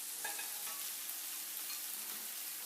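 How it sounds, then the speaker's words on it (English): Frozen squash added to a frying pan of broccoli and potatoes gives a soft, steady sizzle, a faint continuous hiss with light crackles and a brief scrape near the start, and no voices. "I'm now going to add my frozen squash"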